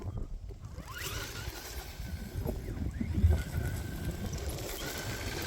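Axial AE-5 RC car with a HobbyWing Fusion SE motor driving outdoors, giving a steady low rumble with faint rising motor whine under constant wind-like noise, and no voices.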